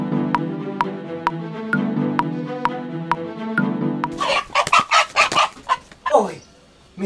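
A rooster, taken by a jackal in daytime, squawks and clucks in loud frantic bursts after a steady opening stretch, the cries close and uneven.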